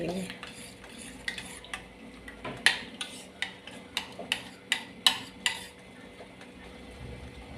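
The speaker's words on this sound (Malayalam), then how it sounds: "സ്പൂണിൽ കുറച്ചും കൂടി ഒന്ന് മിക്സ് ആവാനുണ്ട്" A spoon stirs a homemade turmeric soap mixture in a bowl, a run of sharp clinks and scrapes against the container that comes in a quick, fairly regular rhythm.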